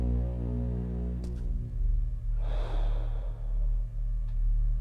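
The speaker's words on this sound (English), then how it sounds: "I love the breathing. Hearing it from over there in the corner" Low, heavy breathing of an unseen creature lurking in a corner of The Swine horror game, a steady rumble with a sharp intake and a longer breathy exhale, set against a droning low hum.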